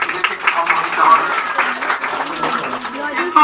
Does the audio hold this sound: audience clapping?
yes